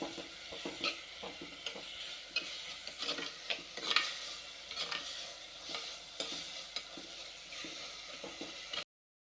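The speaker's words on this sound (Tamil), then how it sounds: "தக்காளி நல்லா வதங்கணும்." Tomatoes sauté in a pan for a Tirunelveli brinjal curry, with a steady soft sizzle broken by repeated scraping stirs and light clinks of the spoon against the pan.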